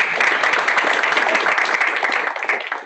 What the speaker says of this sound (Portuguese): Parabéns, uma salva de palmas aqui